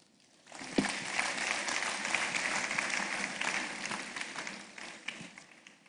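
Audience applause at a university inaugural lecture, a hall of people clapping steadily for several seconds at moderate level, swelling quickly and slowly fading out.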